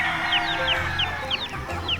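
Chickens on a province farm in Ronda, Cebu, Philippines cluck and chirp in quick repeated calls, fairly close, over a low background rumble.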